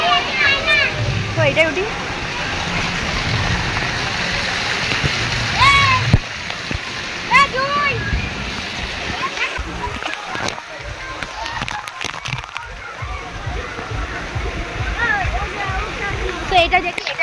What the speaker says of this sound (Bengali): ওখানে জল পড়ছে